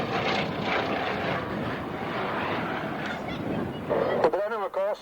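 A Bristol Blenheim aircraft taxiing at an airshow gives a continuous rough piston-engine drone, fairly distant and steady, with a brief warbling honk-like sound near the end.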